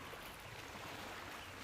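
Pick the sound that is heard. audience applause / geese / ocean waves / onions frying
ocean waves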